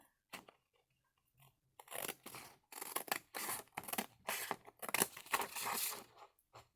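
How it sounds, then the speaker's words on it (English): Scissors snip through a small paper journal tag in a quick, irregular run of crisp cuts, starting sparse and then coming in close, steady bursts, near and fairly loud with no talking. "So let's go ahead and cut that out."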